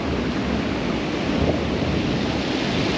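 Big surf rolling in at a beach during bass fishing, a dense, continuous roar of breaking waves, loud and close, mixed with wind buffeting on the microphone, no voices.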